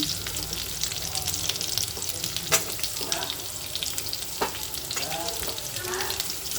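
Chopped onions, carrots and green chillies frying in oil for vegetable rice give a continuous, fairly loud sizzle with repeated stirring scrapes and occasional clinks, close by.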